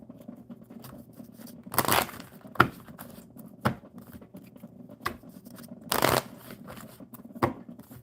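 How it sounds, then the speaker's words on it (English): Oracle cards being shuffled near the mic, a few quick riffling bursts and soft slaps with quiet pauses between them. "let's shuffle the Oracle for Aniket"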